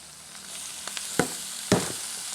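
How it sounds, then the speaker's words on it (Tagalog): Pork seasoned with pepper and salt sizzles in a hot pan, a steady close frying hiss broken by a couple of sharp crackles and pops. "Ganun lang, gigisa lang."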